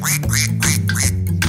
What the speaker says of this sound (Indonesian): Dia bilang kuek saat berenang menjauh.